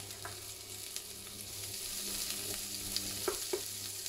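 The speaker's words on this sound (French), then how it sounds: "les oignons dedans, pour les faire transpirer" Onions sweat in a pot for a pumpkin soup, making a soft, low sizzle with a few light clinks of a spoon stirring near the end.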